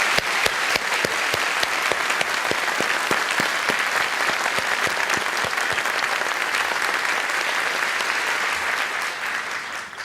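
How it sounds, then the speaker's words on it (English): Sustained, loud audience applause fills a Paris conference hall, dense clapping from a large crowd holding steady for about ten seconds before easing slightly at the end. "Let's give her a big round of applause."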